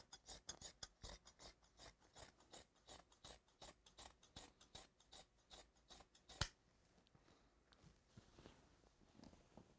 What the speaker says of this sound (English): Grab your scissors, cut that in half.